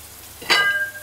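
A quarter cup of oil hits a hot pot for curry goat, giving one sudden bright sizzle that flares loudly and then settles into a softer hiss.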